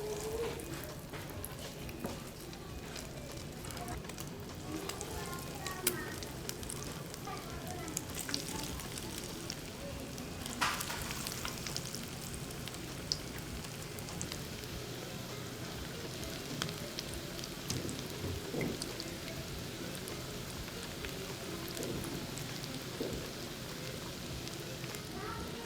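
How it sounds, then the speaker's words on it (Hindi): Potato shahi kababs coated in egg and breadcrumbs fry in hot oil, giving a steady, close crackling sizzle that runs throughout with small pops, and a voice is faintly present at times. "और इसको फ्राई करता जाएं।"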